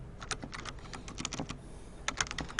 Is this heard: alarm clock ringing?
no